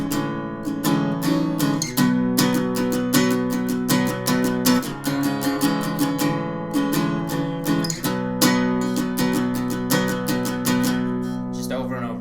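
Acoustic guitar strums through the bridge of a song, steady rhythmic chords ringing close and full, played alone with no talking.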